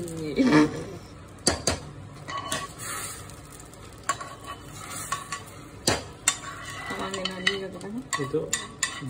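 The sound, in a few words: stirring vermicelli payesh in boiling milk with cardamom and ghee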